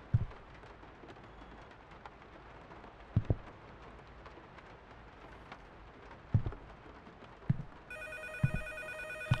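Telephone ringing in the indie horror video game Can't Revert, with repeated electronic rings toward the end over a rain-like ambient background and a few low thuds.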